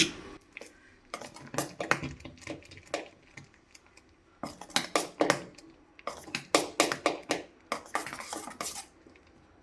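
Salted idli batter is mixed by hand in a metal vessel, giving irregular wet slaps and clinks in bursts with short pauses between them, close up, with no talking.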